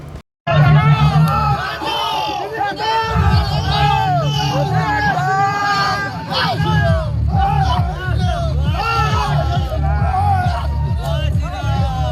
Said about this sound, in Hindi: भीड़ नारे लगा रही है